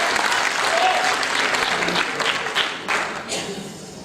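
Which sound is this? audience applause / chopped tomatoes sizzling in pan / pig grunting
audience applause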